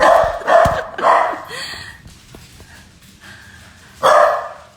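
Several dogs barking in short bursts close by, with quieter yips and a pause before a final loud burst.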